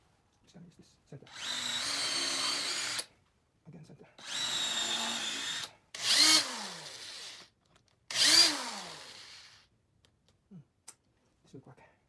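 A power drill bores into scrap wood in four separate bursts, each a loud whining run, the later two rising and falling in pitch, with brief speech in between.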